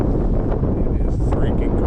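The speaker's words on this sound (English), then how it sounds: "The wind is brutal." Strong, cold winter wind buffeting the microphone outdoors on snowy ice, a loud, continuous low rumble with muffled voice-like sounds underneath.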